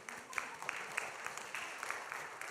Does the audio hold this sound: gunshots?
no